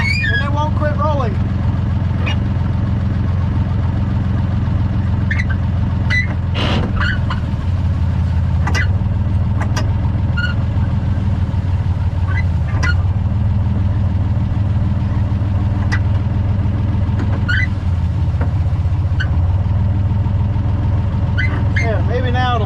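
Engine of a 1954 Chevrolet Bel Air running on and refusing to shut off, a steady low idle rumble heard up close for the whole stretch, with intermittent clicks and squeaks and a person talking over it.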